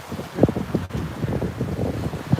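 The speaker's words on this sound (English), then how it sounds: "I'm going to move away from the water here because it is very windy." Strong wind at a beach at sunset buffets the microphone in irregular gusts and rumbling thumps, with the sea faintly beneath and no voices.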